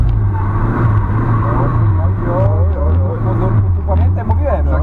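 A car engine drones and revs unevenly up close during figure-eight drifting on a pine-needle-covered surface, its pitch rising and falling in waves, with voices talking over it.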